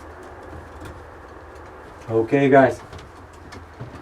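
Tame pet pigeons or doves cooing close by in a short burst of a few calls, with someone talking just before and background hum around it.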